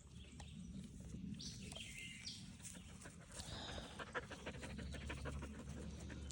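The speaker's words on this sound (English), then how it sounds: "she's a nice dog" A dog pants steadily outdoors, its quick breaths close and continuous, while chickens cluck and birds chirp in the background.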